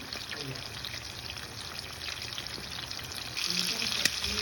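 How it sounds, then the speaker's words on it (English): Steady hissing sizzle of chicken frying in a pan, close and continuous, growing slightly louder near the end with a faint clink. "So these are sizzling nicely."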